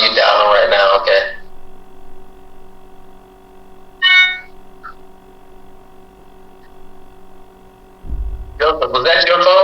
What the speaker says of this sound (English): Was that your phone? No. Oh, Bianca's stunting. What? We heard that notification.